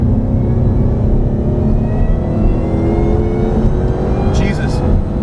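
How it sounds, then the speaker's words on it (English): A Hennessey HPE750 Mustang accelerates hard along a short race-track straight, its engine note climbing steadily in a loud, continuous in-car roar with rising whine, heard from inside the cabin. "I just hit 100 miles an hour in this car on this very short straightaway"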